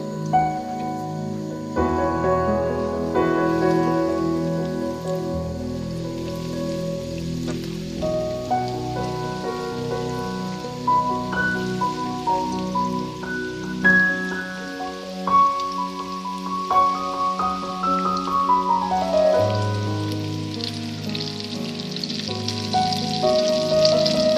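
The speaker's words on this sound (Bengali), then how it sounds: "এখানে রেডি করে রাখা নাগেটসের টুকরাগুলো আমরা এখন পর্যায়ক্রমে ফ্রাইড প্যানের ভিতরে ছেড়ে দেব।" Chicken nuggets fry in a pan, giving a steady crackling sizzle like rain on a surface, with sustained tonal sounds layered over it throughout.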